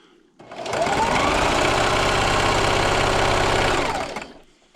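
Domestic sewing machine stitching through a quilted fabric placemat with batting, running in one steady loud continuous burst after a short pause and then stopping.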